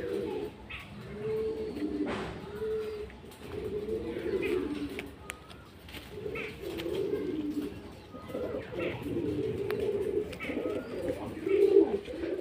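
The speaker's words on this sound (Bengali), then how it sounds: "পায়রা স্ট্যান্ডিং দেখুন, খুব ভালো পায়রা আছে।" Fulshira-line pigeons coo in a home loft with repeated soft, throaty rolling calls overlapping close by. Occasional chirps and faint background talk sit beneath the calls.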